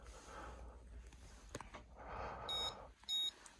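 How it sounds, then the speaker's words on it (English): A handheld temperature anomaly detector lets out two short, loud high-pitched alarm beeps near the end, after a breath of warm air is blown at its measurement window. Soft breathing and handling noise come first. "it indicates by showing a red light and the alarm. So you get the high tone"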